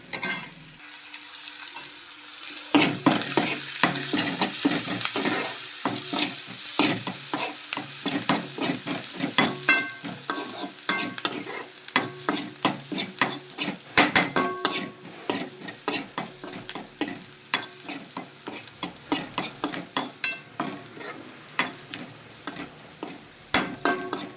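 Green chillies and turmeric fry in hot oil in a pan for a homemade tomato egg curry, stirred with a utensil. After a near-silent start, loud sizzling runs throughout, broken by quick repeated scraping and clinking strokes of the stirring.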